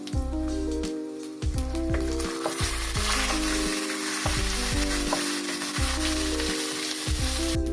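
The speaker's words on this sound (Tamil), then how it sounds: "போட்டுட்டு வதக்கணும்." Ingredients for beef kola urundai sauté in hot oil, a steady close sizzle broken by rhythmic scraping and clacking of a spoon stirring the pan.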